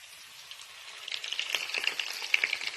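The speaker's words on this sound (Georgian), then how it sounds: "Დავასხავთ კარაქს." Melted butter is poured into a hot pan and sizzles, the crackle building to a steady, busy hiss close by, with no voices.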